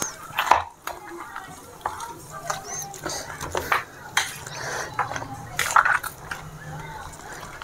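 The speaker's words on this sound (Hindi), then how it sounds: "साथ ही साथ जो मिर्चा टमाटर नींबू है सारा मिर्चा टमाटर आलू सारा इसमें अच्छे से मिक्स हो जाए।" A spoon scrapes and clinks against a bowl while mashed Bihari chokha is mixed with chili, tomato, potato and lemon, giving irregular taps and soft squelching stirs at close range.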